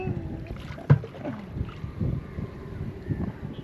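A small fishing boat moves on the water off a beach at Beruwala, with wind buffeting the microphone, water sloshing against the hull and a sharp knock near the start.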